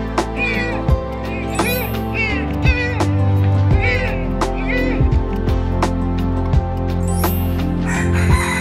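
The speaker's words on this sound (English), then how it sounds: "chicken," A rooster crows repeatedly over a steady musical backing, its calls rising and falling in drawn-out bursts amid a few short sharp accents.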